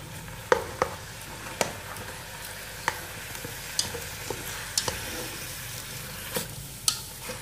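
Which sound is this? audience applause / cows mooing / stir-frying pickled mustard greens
stir-frying pickled mustard greens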